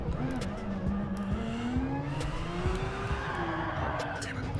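Race car tires scrubbing and squealing through a turn in the GT Sport video game, a sustained wavering squeal over steady engine drone, with a voice talking over it.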